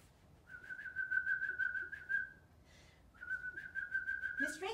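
A person whistles a bird imitation: two long, steady high tones, each held for about two seconds with a brief pause between, clear and moderately loud.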